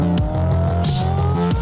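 A car engine revs hard several times in quick succession, the pitch climbing and dropping with each loud burst, and a short tyre-squeal-like hiss in the middle, with no voices.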